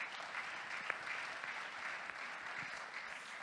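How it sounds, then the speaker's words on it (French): Applause from an audience at an entrepreneurs' convention in France, a steady, even patter of many hands clapping at moderate distance, fairly quiet and continuous throughout. "La preuve, c'est qu'on va t'applaudir 2 fois,"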